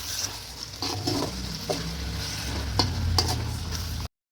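Chicken fries with a ground coriander paste in a hot pan, giving a steady close sizzle under repeated scraping and clattering as a utensil stirs and mixes it. The sound cuts off abruptly at the end.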